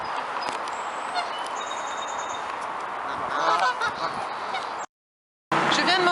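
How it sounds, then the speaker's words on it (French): Ducks honking and calling outdoors in San Francisco, a steady chorus of nasal calls over ambient city noise, with a brief gap of silence before the calls resume. "Il y a des canards absolument partout qui n'ont absolument pas peur."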